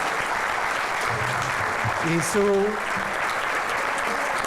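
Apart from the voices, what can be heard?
audience applause for guest speaker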